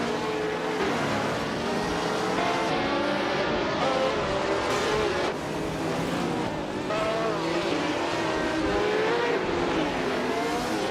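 AI-driven race cars in a racing video game roar continuously, engines whining and shifting pitch as they pass close together, with occasional tire squeal, loud and sustained throughout.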